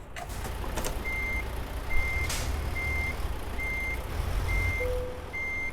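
A truck reversing in Euro Truck Simulator 2 sounds a steady, evenly spaced series of high electronic reversing beeps, about six of them, over a constant low engine rumble.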